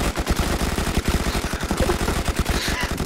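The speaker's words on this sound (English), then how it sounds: "When I tell you to stop firing, I expect you to stop firing." Sustained automatic gunfire in Arma 3, a fast, loud string of closely spaced shots rattling nonstop from a nearby machine gun.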